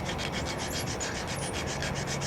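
Steady abrasive grinding of a bevel onto the ends of a shark tooth, a continuous rasping, rubbing scrape with a faint pulsing rhythm, close and fairly loud throughout with no talking.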